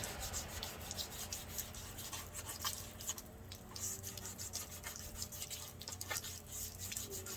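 Panels of a Cimbali espresso machine being sanded for painting, a continuous close rubbing and scratching stroke repeated in a quick uneven rhythm, fairly quiet and steady throughout without speech.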